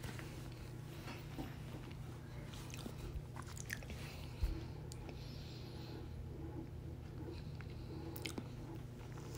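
Someone eats quietly, the soft close-up chewing and occasional crunch of food barely rising above a faint steady background hum, with one small sharper bite midway.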